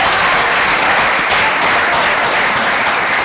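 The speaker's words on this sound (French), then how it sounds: "Est-ce qu'on peut applaudir pour lui?" Loud, dense applause from an audience at a gathering honoring a man, continuous clapping filling the space evenly for a few seconds with no voices over it.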